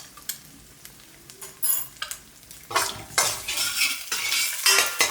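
Eggs are stirred and broken into small pieces in a pan for fried rice, with repeated scraping and clinking of a utensil against the pan over a soft sizzle, growing busier toward the end.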